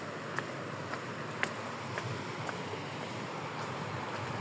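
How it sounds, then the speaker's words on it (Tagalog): Water rushes at a reservoir as a steady, faint broadband roar with occasional small splashes or clicks, and no talking. "Malakas ang tubig!"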